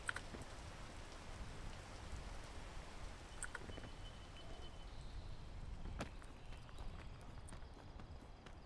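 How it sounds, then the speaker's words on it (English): Steady rain in the video game PEAK, a soft, even patter that continues throughout at low level, with a few faint clicks and taps scattered over it. "I summoned the rain right then."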